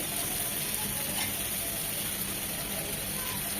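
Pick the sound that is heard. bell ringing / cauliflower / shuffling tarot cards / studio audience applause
cauliflower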